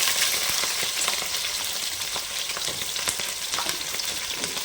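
Onions frying in oil in a pan with dried red chillies and green chillies for bottle gourd sambar, giving a steady, close sizzle with small crackles and pops throughout, no voices.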